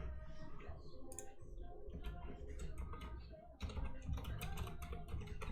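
Typing on a computer keyboard during a Windows tutorial, a close, steady run of clicking keystrokes that speeds up into a busier burst near the end, with some background sound beneath.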